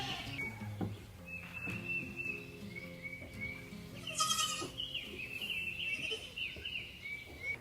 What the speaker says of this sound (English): first time milking a goat